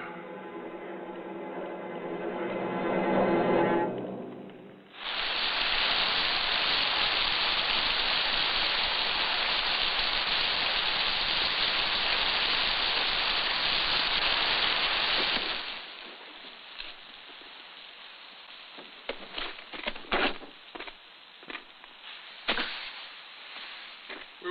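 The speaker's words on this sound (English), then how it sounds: "wait here until the rain stops." Steady, loud rain pours down for about ten seconds, a dense hiss that stops abruptly, leaving scattered drips and patters; before it begins there is a short stretch of a different, lower sound.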